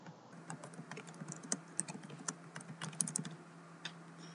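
Keys on a computer keyboard clatter in an irregular burst of soft, close clicks as a name is typed into software, with no talk.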